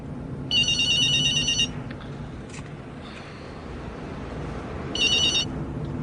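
A cell phone rings in two electronic bursts, one early and one near the end, each about a second long and clearly heard over a steady low background hum.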